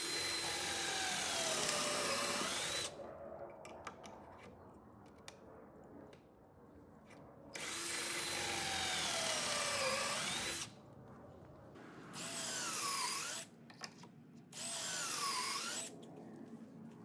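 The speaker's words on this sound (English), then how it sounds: "So we're using a Craig jig to do this, to drill some pocket holes that we can then securely screw this larger tabletop piece into these end pieces." A power drill boring pocket holes through a Kreg jig into tabletop pieces for a laundry room folding table. It whines loudly in long sustained runs, with quieter pauses and tool handling clatter between the bursts.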